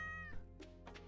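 A single short cat meow sounds from a video game, clear and close, followed by a couple of soft thumps.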